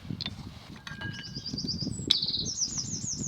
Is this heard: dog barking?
no